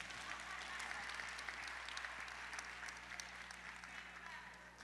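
A church congregation claps together in a thick, sustained patter of many hands, fairly faint and distant, over a low steady hum.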